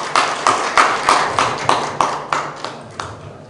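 Applause welcoming a professor onstage at a Marine Week seminar in Busan: about a dozen sharp, evenly paced claps, loud and close, fading slightly toward the end with no talking.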